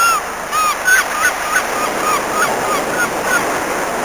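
Sea surf washing against rocks in a steady broadband roar, with several short gull cries scattered over the top at irregular moments, fairly close and clear without any talk.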